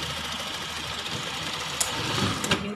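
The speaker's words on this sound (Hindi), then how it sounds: "लेकिन इसे सिलाई करने में मज़ा आ रहा है।" Sewing machine running steadily while stitching a baby frock sewn from leftover fabric pieces, a continuous close whirring hum with a couple of brief louder clicks near the end, no talking.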